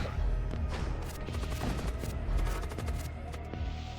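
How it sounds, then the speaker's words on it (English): Artillery fire in the Void War video game sounds as a dense, fairly steady barrage of rapid booming shots and impacts, continuous over several seconds with no talking. "Artillery."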